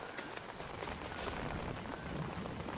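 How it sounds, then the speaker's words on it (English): Steady rain in the Mario + Rabbids Sparks of Hope game, a continuous dense hiss of falling drops, moderately faint and unbroken, with no voices over it. "It won't stop raining."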